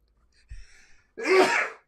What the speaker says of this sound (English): I'm going to sneeze like 4 more times, everybody.